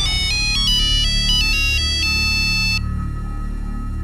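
A phone ringtone plays a bright, repeating electronic melody loudly for nearly three seconds, then cuts off, leaving a low background hum.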